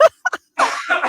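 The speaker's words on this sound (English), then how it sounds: "It's a coughing fest here" A person coughs several times in short, sharp bursts during a podcast recording, followed by a longer, rougher throat-clearing or coughing fit, close and fairly loud.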